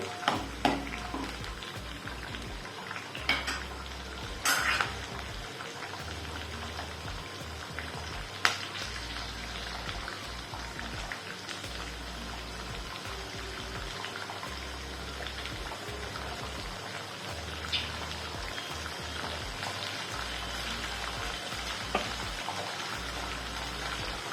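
Pavta beans sauté in hot oil in a pan, a steady soft sizzle running throughout with occasional clinks and scrapes of a spoon against the metal.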